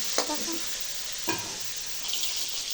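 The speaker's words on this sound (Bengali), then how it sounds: "দেখেন এখন মাছগুলো ভালো করে ভেজে নিলাম" Tilapia fish frying in oil, a steady close sizzle with a few brief scraping stirs of a spatula in the pan.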